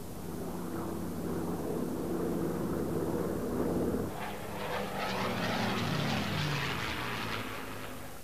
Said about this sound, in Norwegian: Straks efter er de 7 norske jagerflyene fra Fornebu i kamp med 10 tyske fly, 20, 40, 80 tyske fly.